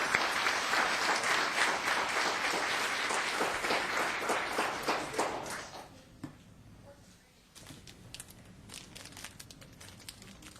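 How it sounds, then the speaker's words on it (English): At a town council meeting, the audience breaks into dense applause that fades after about six seconds, leaving scattered handling noises and faint room sounds. "And one more time, a big round of applause."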